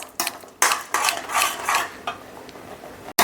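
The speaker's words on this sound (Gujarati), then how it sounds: "હવે આપણે ગેસને એકદમ ફાસ્ટ કરી લઈશું અને બે મિનિટ માટે તેને ચલાવી લઈશું" Milk halwa with ghee is stirred in a pan over high heat, loud close bursts of spoon scraping and clattering against metal in an uneven rhythm with brief pauses.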